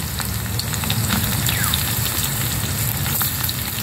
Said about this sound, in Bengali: এবার আমি বেগুনগুলোকে দিয়ে ভেজে নেব।